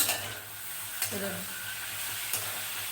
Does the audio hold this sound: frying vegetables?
yes